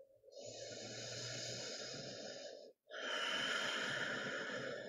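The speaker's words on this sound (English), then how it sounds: "Take one more cycle of breath. Let it be full." A slow, deep, full breath during a chair yoga session, heard close up. A long inhale is followed by a brief pause, then a long audible exhale.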